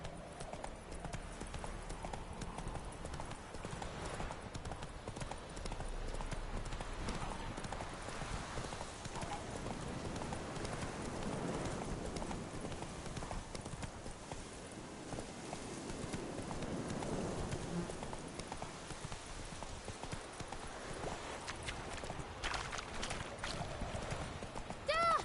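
Roach the horse trots steadily through The Witcher 3, hooves clip-clopping in an even rhythm across the whole stretch, with an occasional whinny and game ambience underneath.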